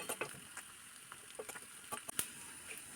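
Dried red chillies and curry leaves fry in a pan for a dal and bilimbi curry while being stirred, giving quiet sizzling with scattered sharp pops and crackles.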